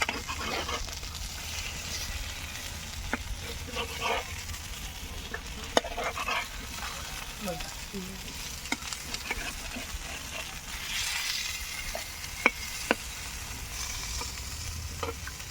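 Snakehead fish frying in a pan for shol macher paturi, a steady close sizzle of oil with scattered pops and a few sharp clinks from the pan.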